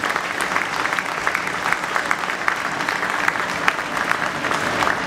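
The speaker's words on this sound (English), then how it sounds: "Let's give him a round of applause, Joe Daniels." An audience at a 9/11 memorial event claps in sustained applause, a dense crowd of hands at steady strength throughout.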